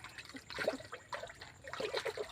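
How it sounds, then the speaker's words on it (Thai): Water trickles and splashes softly and continuously, with small bubbling bursts and no voices. "ให้มีน้ำไหล"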